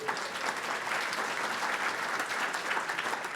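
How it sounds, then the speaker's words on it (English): An audience at a county teacher of the year event applauds a teacher with continuous, even clapping from many hands, moderately loud and unbroken throughout. "No, please, she deserves the applause"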